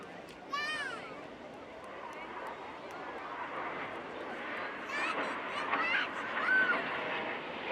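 Red Arrows jets roar overhead during a double roll display at an airshow, a loud, continuous broadband rush of engine noise with a rising pass, accompanied by a commentator talking and crowd ambience.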